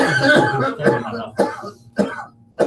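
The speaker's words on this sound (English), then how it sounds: "I'm starting to think he's getting these coughing fits." A run of about five harsh coughs comes in quick succession, each burst sharp and close, with short pauses between them.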